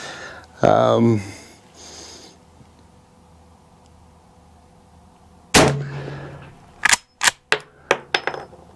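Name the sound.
rifle shots fired at a 25-yard target, 44-40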